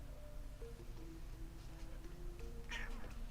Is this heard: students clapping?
no